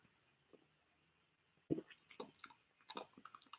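Close, quiet slurping sips of mango kombucha in an ASMR setting, a soft wet pull followed by a few small liquid and mouth sounds, then a second sip, all alone with no talking.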